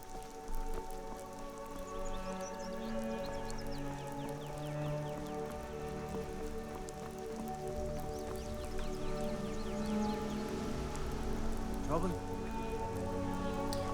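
Rain falls in Skyrim near Falkreath, a steady soft patter of drops continuing throughout under the game's background music, with a person talking over it at times.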